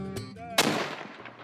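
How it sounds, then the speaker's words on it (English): An annual cannon blast marks the start of a rural Iowa winter bike ride: one sharp, loud boom rolls out and fades, preceded by a brief crack and set against faint background voices. "After a series of annual cannon blasts, the cycle is on."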